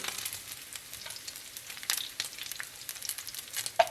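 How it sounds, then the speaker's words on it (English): Bacon sautés in a pan for a beef bourguignon, giving a soft, crackling sizzle with scattered pops and spits and an occasional louder snap, fairly quiet and steady throughout. "Saute your bacon until it's crispy"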